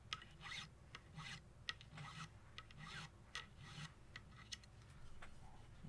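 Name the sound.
filing wooden guitar edges with a fine file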